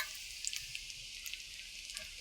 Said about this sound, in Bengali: অল্প তেলেই ভাজা হয়ে যাবে